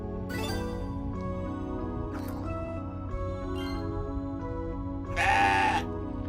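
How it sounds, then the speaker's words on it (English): A goat character in the video game CrossCode gives one sharp, nasal bleat near the end, preceded by soft melodic game tones and chimes playing steadily underneath. "Playful goat noises."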